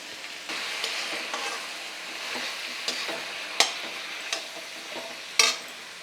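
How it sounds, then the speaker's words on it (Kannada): Five large tomatoes sizzling in a pan with already fried onions for a hotel-style paneer gravy, a steady close frying hiss broken by a few sharp spoon taps and scrapes against the pan. "ನಾನೀಗ ಒಂದು ಐದು ಟೊಮೊಟೊ ಹಾಕೋತಾ ಇದ್ದೀನಿ"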